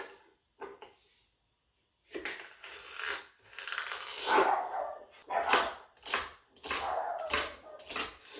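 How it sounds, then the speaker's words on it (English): A knife cuts celery lengthwise on a cutting board in a home kitchen, giving a series of sharp, close strikes and scraping sounds in an uneven rhythm after a brief quiet start. "Now we're going to chop our celery. Cut it down lengthwise,"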